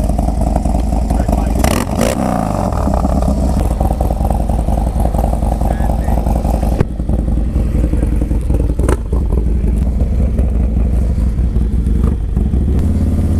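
A Harley-Davidson Dyna Low Rider S FXDLS motorcycle engine runs with a continuous loud rumble and wind-like roar, with voices briefly audible.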